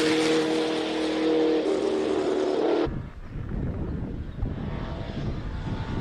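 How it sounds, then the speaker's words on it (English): A Nissan 350Z with a swapped LS V8, rear-wheel drive, climbs a hill-climb course at Speed Classic Cape Town, a loud high-revving engine roar that cuts off sharply partway, leaving a rougher, fainter rumble. "Emil Bortner with the Nissan 350Z powered by an LS V8 rear-wheel"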